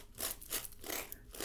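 A hairbrush drawn through a person's hair at a haircut, giving soft, close, rhythmic swishing strokes, quiet and without any talk.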